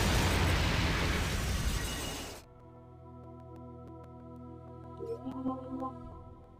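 A bomb blast in the video game Carrier erupts as a loud, dense burst lasting a couple of seconds, then cuts abruptly to a steady low game hum with faint tonal blips afterward.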